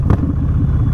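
Motorcycle rumbling at low speed in a workplace parking lot, a close, steady low engine drone for about a second.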